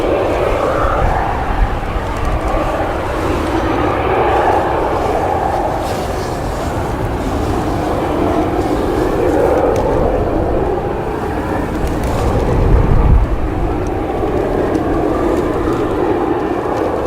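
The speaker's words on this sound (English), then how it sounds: "This is the Paphos flight." A passenger airliner on the Paphos flight at Leeds Bradford Airport gives off a sustained, loud jet engine roar that swells and rumbles steadily throughout, with gusty wind in the background.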